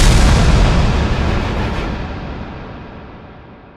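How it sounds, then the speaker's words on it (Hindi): A loud, close explosion with a heavy rumbling roar that slowly dies away over a few seconds. "फिर होता है एक जोरदार धमाका"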